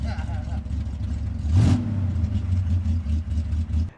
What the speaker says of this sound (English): in the engine bay, we've got a monster 331 cubic inch Chrysler Industrial Hemi V8s